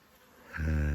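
Honeybees at an apiary in spring, a swelling buzz that rises from faint to loud and steady as the insects come close within about a second.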